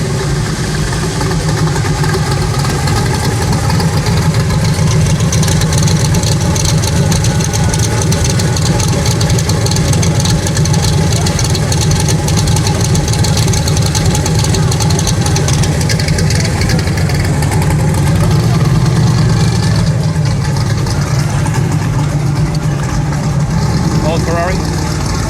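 A Ferrari sports car engine idles with a deep, steady exhaust burble, continuous and close, with occasional slight rises in revs and some voices around it, on a street near Monaco.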